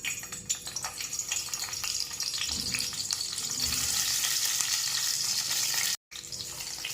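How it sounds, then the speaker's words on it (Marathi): Stuffed brinjals fry in a little oil in a kadhai, a loud continuous hiss and crackle with scattered sputters and occasional stirring, close up, cutting out abruptly for a moment near the end before resuming. "त्यामध्ये आपल्याला ही वांगी घेतली होती भरून, ते आपल्याला 2 मिनिटं फ्राय करून घ्यायचे आहे."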